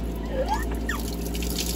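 Water poured from above over a person's head during a forfeit in a Jenga penalty game, a steady splashing trickle with dripping, close and alone without talk.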